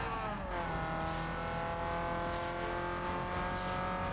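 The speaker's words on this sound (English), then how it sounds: "The little inline 4-cylinder engine of the little 240SX." Nissan 240SX with a small inline four-cylinder engine racing in Need for Speed Underground 2, a loud continuous revving engine whine that climbs at first then holds steady, alone with no talk.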